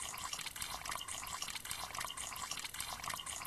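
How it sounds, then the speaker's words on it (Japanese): Steady running water in a Japanese free horror game, a character washing blood off the body, a continuous dense splashing rush with no pauses and no voices. "水の音がなんか怖いんだけど"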